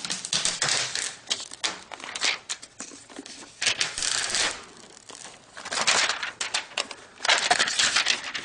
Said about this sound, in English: let's go ahead and peel this wrapper off